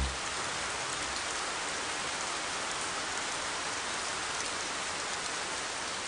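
Heavy rain pours down steadily at night, a dense, even hiss of drops on surfaces that stays loud and unbroken throughout, with no voices or thunder.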